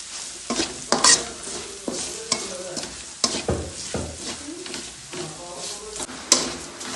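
Garlic and garam masala powder fry in a pan for Kerala-style beef varattu, with repeated scraping stirs and clinks of the spoon against the pan over a low sizzle.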